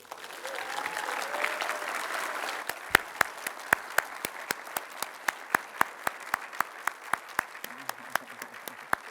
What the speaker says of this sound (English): Please join me in a big round of applause for Peggy Whitson.